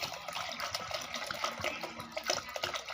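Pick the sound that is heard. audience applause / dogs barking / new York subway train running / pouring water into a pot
pouring water into a pot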